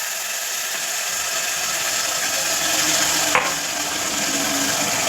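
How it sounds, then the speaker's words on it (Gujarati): Potato, onion and tomato are stirred in a cooking pot, giving a steady soft sizzling hiss with scraping and clinking of the spoon, close and continuous, with one brief sharper scrape near the end. "આપણે સરખી રીતે મિક્સ કરી લઈશું।"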